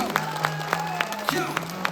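An audience at a stage welcoming event claps in a steady rhythm, sharp evenly spaced claps about four per second over a sustained tonal background.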